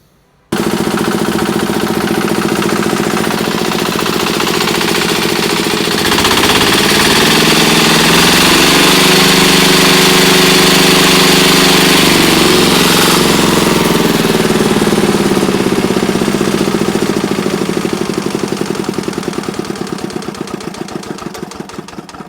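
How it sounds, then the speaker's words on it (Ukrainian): A Zubr walk-behind tractor engine, freshly fitted with a new piston, runs loud and close with a harsh rapid exhaust rattle, rising in revs and then easing back steadily over about twenty seconds. "нехай мотоблок газує далі"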